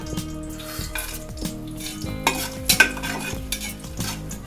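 Chopped onions and green chillies fry in hot ghee with cinnamon and cloves for chicken biryani, a close steady sizzle broken by repeated scraping stirs and metal utensil clinks against the pan.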